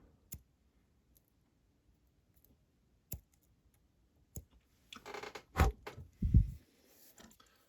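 Small scissors trimming fly tying material while tying a hopper fly, a few sparse, close snips spread apart, ending in a quick cluster of louder cuts.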